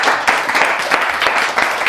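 An audience at a comedy roast claps and cheers in a dense burst of applause, loud and close, lasting a couple of seconds.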